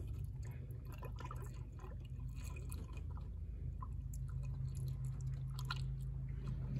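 Motor oil glugs and trickles from a 5-quart jug into a truck engine's filler, a continuous close-up liquid pour with irregular bubbling drips over a low steady hum.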